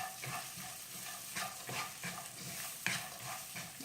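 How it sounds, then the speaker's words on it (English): Poha ingredients with peanuts being stirred in a pan, quiet rhythmic scraping and shuffling strokes over a faint sizzle, fairly close and low in level, no voices. "I'm going to mix it all together."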